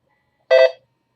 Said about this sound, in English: Heard a beep, the screen redraws